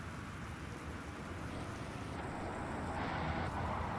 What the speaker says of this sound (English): Rain's loud.